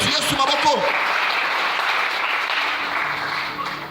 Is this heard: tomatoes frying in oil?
no